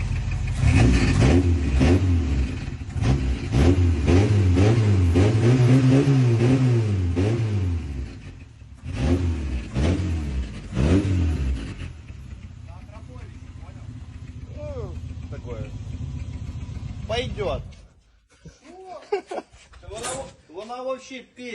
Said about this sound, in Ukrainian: як заводиться і як працює ця машинка